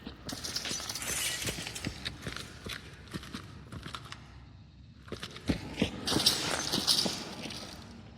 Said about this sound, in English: There can also be sound traps on the ground, such as broken glass and cans.